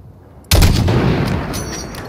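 A long-range sniper rifle shot in Call of Duty: Modern Warfare (2019): a single loud, close crack that breaks out of near silence and leaves a long, rumbling tail.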